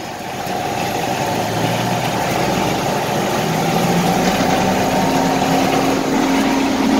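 An old tractor engine idles on a cattle farm, a steady low rumbling chug that holds evenly throughout, close and loud with no talking.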